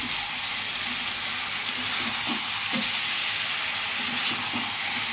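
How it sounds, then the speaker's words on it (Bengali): Marinated chicken poured onto fried onions in a hot pan for Bengali coriander chicken curry sizzles with a loud, even hiss throughout, broken by a few soft knocks of the pan and spoon. "এবার ম্যারিনেট করা মাংসটা এবার ঢেলে দেবো এর মধ্যে।"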